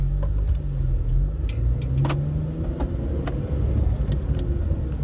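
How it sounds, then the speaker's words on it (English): A Honda Civic Si (FA5) on new coilovers and camber arms cruises along a bumpy road, its engine a low steady hum under road and tire noise, with a few faint clicks and rattles from inside the cabin. "we're gonna take it for a test drive right now"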